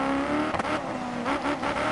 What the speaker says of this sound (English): Sit there revving it in neutral